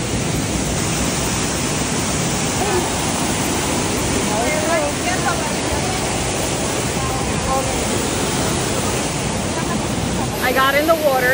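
Waterfall and rushing water at Patillas, Puerto Rico, a dense, steady roar of falling water filling the scene throughout, with faint voices briefly audible beneath it.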